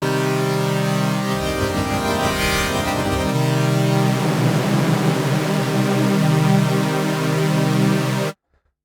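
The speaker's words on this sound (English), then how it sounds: "which is your classic sort of super saw sound" Swarm-algorithm synth in Ableton Live 12 playing a classic supersaw pad: a thick, sustained chord of detuned saw voices with a washy, noisy shimmer, swelling slightly midway, holding steady alone and then cutting off abruptly near the end.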